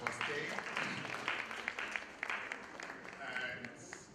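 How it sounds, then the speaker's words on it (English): A conference audience at an HIV financing meeting in Nigeria claps for itself, a broad wash of many hands with a few sharper claps standing out, fairly close and continuous, with some voices mixed in. "Can you clap for yourself also for staying?"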